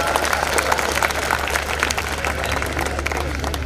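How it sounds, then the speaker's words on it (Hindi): Audience applause at a comedic poetry recital (mushaira) in Dubai, a steady wash of many hands clapping that holds evenly throughout, fairly loud with no voices breaking through. "तालियां कमजोर थी।"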